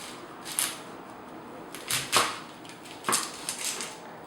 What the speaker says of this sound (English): So now we're going to cut the onion.